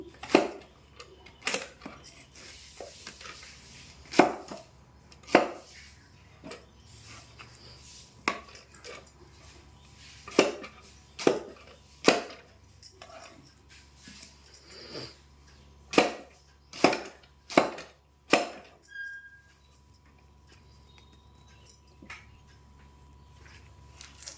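Raw mango being chopped into pieces on a board, a series of sharp, irregular cutting thuds and knocks, close and distinct, spaced a second or two apart with quiet gaps between.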